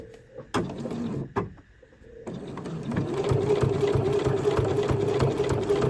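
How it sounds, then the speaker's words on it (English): A sewing machine stitches the binding on the inside of a tote bag, starting with a few short bursts and then settling into a steady, close mechanical whir that runs to the end. "we'll just come over to our sewing machine and we'll just stitch on the inside of the binding on both sides"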